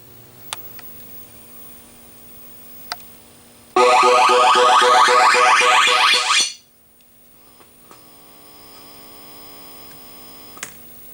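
A 1980 Williams Electronics Defender arcade board under repair blasts a loud, dense burst of sweeping electronic tones for about three seconds at full volume, framed by steady mains hum and a few small clicks.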